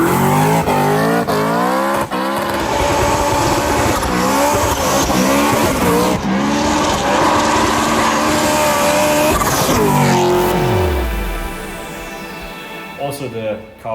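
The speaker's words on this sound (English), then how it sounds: "this brings us to probably the best sounding BMW I currently own, which is my lovely E90" A BMW E90 M3 with its V8 revs hard and shifts through gears, the loud engine note rising and falling steadily before easing off near the end, with a voice talking over part of it.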